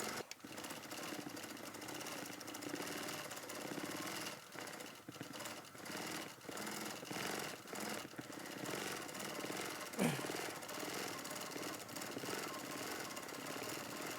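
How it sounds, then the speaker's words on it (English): A quilting machine stitches freehand at a steady rapid pace, a continuous mechanical buzzing hum that runs without pause, close but fairly quiet. "This machine handles so well. I love doing freehand on it."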